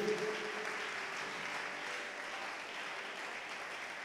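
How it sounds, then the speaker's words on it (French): A church congregation applauds after a Bible reading, a steady, moderately distant wash of clapping that holds for several seconds with no talk over it. "Est-ce qu'on peut ajouter une bonne acclamation à la lecture de la parole de Dieu?"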